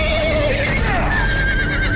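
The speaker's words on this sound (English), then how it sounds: "A horse fell on me." Horse whinny inside Telltale's Game of Thrones video game, a rising then falling neigh that sits loud over a dense, busy game soundtrack for the full two seconds.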